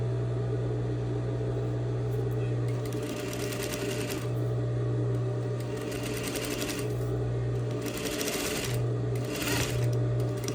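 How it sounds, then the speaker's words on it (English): A sewing machine stitches a straight seam with backstitching at each end, a steady close mechanical whir with a constant low hum and bursts of rapid rattling stitching. "I'm stitching and back stitching at the beginning and end of my stitch line"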